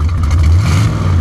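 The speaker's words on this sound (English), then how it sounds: "the exhaust sounds great with the new camshaft in it" A Chrysler V8 with a four-barrel carburetor and a new camshaft revs through its exhaust, giving a loud, close, throaty burst of engine rumble that swells briefly with no talking over it.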